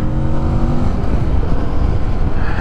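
Kawasaki Vulcan S 649cc parallel twin motorcycle engine on a ride, a loud close throaty drone with rumbling low pulses and steady wind roar, continuous throughout.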